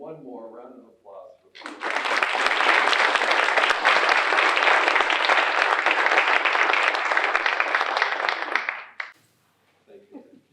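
Sustained loud audience applause fills a homecoming crowning ceremony at an Ohio State University regional campus after the queen is announced, with a speaker's voice before and after the roughly seven seconds of clapping.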